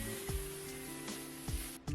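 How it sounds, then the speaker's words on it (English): Hairspray hisses in a steady close spray over the top layer of short hair set in rollers, lasting about two seconds with small puffs along the way. "I go ahead and I spray the top layer while they are in the rollers."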